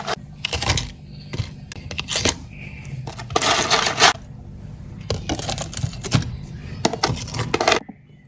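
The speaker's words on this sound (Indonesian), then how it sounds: "Selanjutnya tambahkan es batu secukupnya." Ice cubes tumble into eight glasses of a sweet iced drink, giving a run of close, bright clinking and clattering bursts that come in irregular clusters over a low background rumble.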